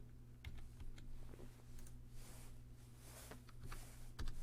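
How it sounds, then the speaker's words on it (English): Computer keyboard typing while entering a PMP exam mnemonic into an Excel sheet, quick irregular keystroke clicks running steadily for several seconds over a low constant hum, fairly quiet and close. "Let's type in the mnemonic."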